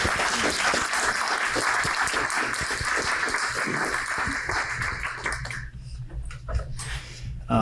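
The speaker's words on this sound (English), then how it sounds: "Can I ask for a round of applause?" An audience at a talk on saving seeds, crops and culinary practices gives a round of applause: dense clapping for several seconds that thins out and fades, with a dog whimpering faintly nearby.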